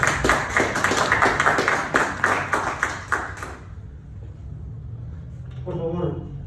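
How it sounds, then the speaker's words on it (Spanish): Listeners at a talk on digital and political activism clap in a brisk, rhythmic burst for about three and a half seconds, then stop abruptly; a quiet pause follows before a voice begins speaking near the end. "un aplauso y un agradecimiento a Gustavo"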